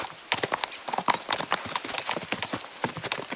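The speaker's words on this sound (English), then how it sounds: "Let's really spur these horses on, eh?" Horses gallop in the medieval video game Kingdom Come Deliverance 2, a fast, continuous run of loud, close hoofbeats in rapid clip-clop rhythm with no talk.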